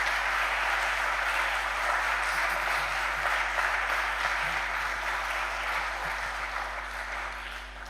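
Audience applause follows a talk at an event, a steady, even wash of many hands clapping in a hall, heard over a constant low electrical hum and fading gradually toward the end.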